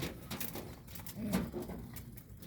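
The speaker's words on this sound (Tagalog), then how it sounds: "Yung nakakain lang nila yung mga nalaglag na patuka mga kalapatids." Pigeons feeding on fallen feed: soft pecking taps and scattered patter close by, with a brief low coo in the middle, quiet and without talk.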